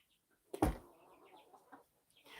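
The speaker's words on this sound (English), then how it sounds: "the chickens don't even move when they start crowing." A rooster crows with one sudden loud, close call, then softer scattered fowl sounds trail off over quiet farmyard background.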